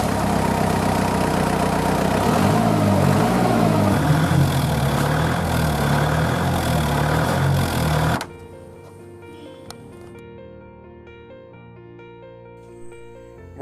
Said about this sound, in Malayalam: നമുക്ക് ഈ വാഹനം ഒന്ന് സ്റ്റാർട്ട് ചെയ്ത് ഇതിൻ്റെ എൻജിൻ സൗണ്ട് ഒന്ന് കേൾക്കാം